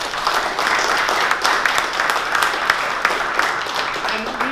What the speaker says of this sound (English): I want to give a great round of applause to Craig Vitter.